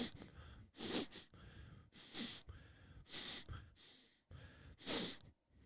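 Five or six quick, sharp sniffs come at roughly one-second intervals, close and quiet, with near silence between them and no talking.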